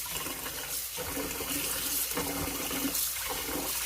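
Tap water runs steadily into a bowl of rice as the grains are rinsed, a constant splashing wash of water with slight surges as the rice is stirred.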